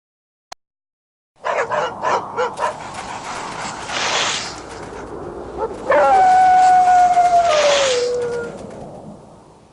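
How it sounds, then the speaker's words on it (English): A husky dog gives a burst of close, loud yips and barks, then a drawn-out, wavering howl that slides downward and fades, following a single sharp click. "Husky dog."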